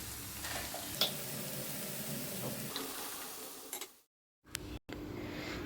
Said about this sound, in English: At this stage I will add the slightly boiled raw jackfruit along with the potatoes.